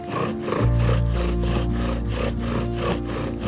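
Wooden friction fire set being burned in, spindle grinding into the board to build up dust: a rapid, rhythmic rasping rub of wood on wood, close and loud, repeating back and forth about three times a second.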